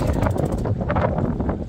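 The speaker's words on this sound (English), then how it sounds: "It's a bit windy." Brief, loud blustery wind rush across the microphone on a marlin fishing boat off Narooma, a dense low roar with a gust swell midway.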